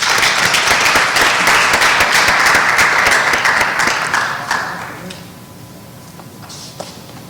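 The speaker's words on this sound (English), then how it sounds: "if we could have one final round of applause for all of the junior recipients" A school audience claps loudly for junior class award recipients at an awards ceremony, sustained applause that fades out after about five seconds, leaving quiet room tone with a few stray sounds.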